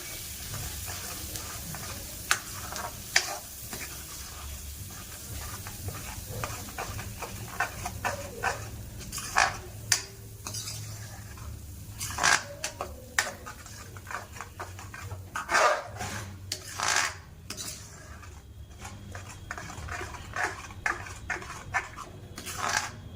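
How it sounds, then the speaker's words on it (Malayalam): Paste of ground onion and tomato being stirred in a pan, with a spoon scraping and knocking against the metal in irregular clicks and taps over a faint, continuous sizzle. "ഇത് വിട്ട് നല്ലവണ്ണം നമുക്ക് ഇളക്കിയെടുക്കണം"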